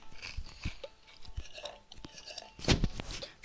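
Eating and drinking sounds from a Minecraft-style survival game, with soft crunchy chewing bites in a short sequence and one louder crunch near the end, quiet and close.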